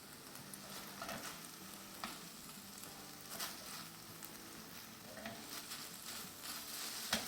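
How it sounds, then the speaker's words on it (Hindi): Chicken fries in a pan with a soft, steady sizzle and occasional stirring scrapes, fairly quiet and close, with no talking. "चले बस इसको हम थोड़ा सा भून लेते हैं और ड्राई कर लेते हैं कंप्लीटली"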